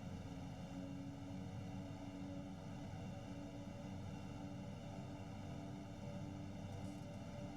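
A propeller airplane in the X-Plane 11 flight simulator taxis off the runway at an Alaskan bush airport, its engine a steady, faint, unchanging drone with a constant tonal hum throughout.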